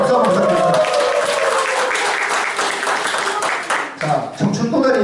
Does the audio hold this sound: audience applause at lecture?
yes